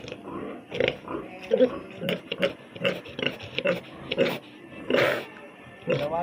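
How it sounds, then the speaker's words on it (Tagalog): A pig oinks repeatedly at a Filipino first birthday and christening celebration, short grunts coming close and loud amid people talking throughout. "Tawagan ang baboy."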